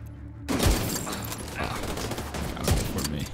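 Gunfire in Tom Clancy's The Division, a few sharp shots over dense game sound and background music, with the loudest bursts near the start and again later, under a continuous noisy backdrop.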